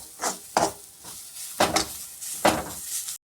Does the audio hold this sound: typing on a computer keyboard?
no